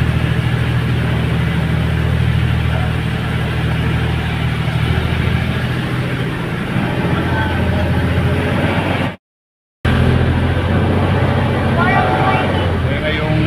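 Boat engine idling and running steadily near an island at sea, a low continuous motor drone heard close throughout, with people talking over it and a brief dropout near the end.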